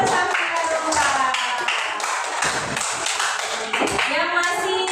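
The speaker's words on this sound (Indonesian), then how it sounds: "Tepuk tangan" Children in an elementary school coding class clap together, a dense run of quick overlapping claps that fills the room, with some voices mixed in.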